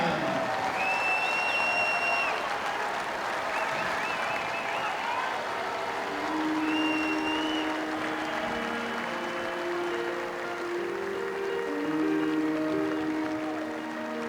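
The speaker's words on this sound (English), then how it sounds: "Let's hear it for the Iceman, George Gervin" Steady applause from a large crowd at a basketball halftime ceremony honoring George Gervin, with cheering and whistles rising over it, sustained throughout at a lively, moderate level.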